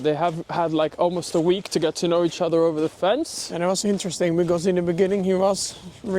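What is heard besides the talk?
No everyday noise stands out behind the speech.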